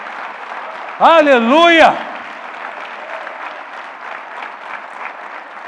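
A church congregation claps steadily as a dense, even wash of applause that runs the whole time, with one loud shouted exclamation from a single voice near the start.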